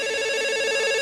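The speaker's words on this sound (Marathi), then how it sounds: "या ना लवकर, फोन वाजतोय." A telephone rings with a steady electronic ringtone tone, loud and close, a short unbroken burst with nothing else over it.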